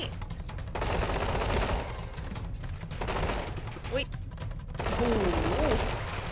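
Gunfire from the Roblox game Combat Arena crackles in rapid, dense bursts that come and go in waves, with a voice speaking over it.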